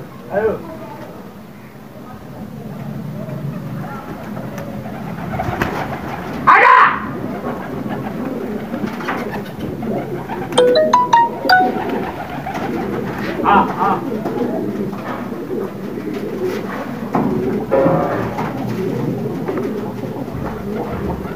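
Pigeons coo after being flown in Khanpur, Rahim Yar Khan, soft repeated cooing mixed with flapping and outdoor ambience, while someone talks over much of it.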